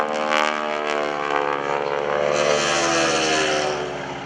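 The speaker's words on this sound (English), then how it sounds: "The sounds that you're hearing are the propeller tips as they go supersonic." A Stearman biplane flying a barrel roll at an airshow gives a loud, throaty propeller and engine roar whose pitch slides steadily as the aircraft passes nearby.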